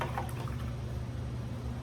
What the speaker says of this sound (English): So, wash your brush out.